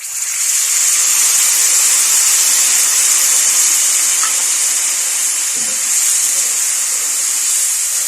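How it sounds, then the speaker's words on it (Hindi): Tamarind pulp striking green chillies frying in hot oil, producing a loud, steady hiss that holds unbroken from start to finish. "अब हम इसमें इमली का पल्प डालेंगे।"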